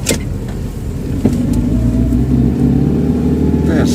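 Car pulling uphill on a narrow street during a driving lesson, its engine note climbing steadily at close range with a continuous rumble throughout, while speech sits over the engine noise.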